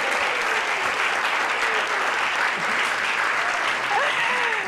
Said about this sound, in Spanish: Un aplauso para Beso.